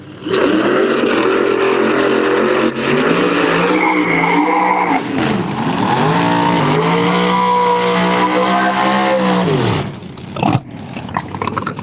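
A supercharged Chevy II drag car at a dragway blasts off with a loud, sustained engine roar that climbs through gear changes and tire noise, then cuts off abruptly near the end.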